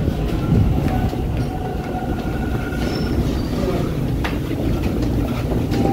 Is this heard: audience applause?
no